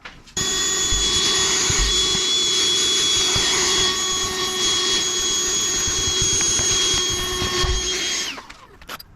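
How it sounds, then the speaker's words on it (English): A vacuum cleaner runs steadily on a boat being rigged, a loud whining motor drone with a high steady tone that starts abruptly and winds down at the end. "I'm gonna get a vacuum,"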